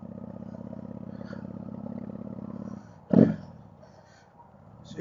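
An idling motorcycle engine, misfiring at low revs after a valve clearance adjustment, putters unevenly, with a sudden louder pop or clatter partway through before settling down again.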